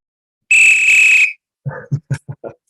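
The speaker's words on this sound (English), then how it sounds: "Let me get the whistle in here." One shrill, steady whistle blast lasts under a second, followed by a few short percussive taps.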